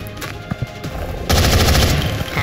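A soldier's gunshot in the video game XCOM: Enemy Unknown, a short burst of rattling automatic fire that erupts loudly partway through and stays dense to the end, after a few faint earlier clicks.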